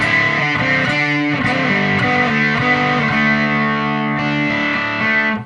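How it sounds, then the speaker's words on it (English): An electric guitar played through an EarthQuaker Devices White Light overdrive at full gain rings out thick, saturated fuzz-like chords, loud and sustained, sounding alone with no talk. "At full clockwise, we're going to get into some pretty heavy tones that are saturated in a little bit of a fuzz type of way."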